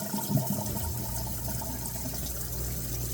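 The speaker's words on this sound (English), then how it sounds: "Pour out as much of that water as I can." Water splashes and gurgles steadily out of a jar of beans, a continuous pouring rush with a few small clinks at the start.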